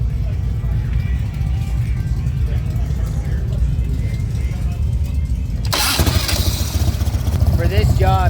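A motorcycle engine with an intake leak cranks and catches partway through, then runs loudly at a rough idle, with steady background rumble before it starts.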